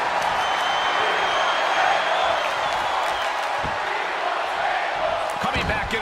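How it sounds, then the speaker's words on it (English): A video game arena crowd in WWE 2K22 roars during a fatal four-way tables match, a loud continuous wash of cheering with a few thuds and slams near the end, under commentary. "The sound of this crowd is deafening"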